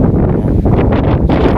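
Strong wind on the open Tinawagan Hills buffets the microphone in a loud, continuous rumbling roar with gusty surges.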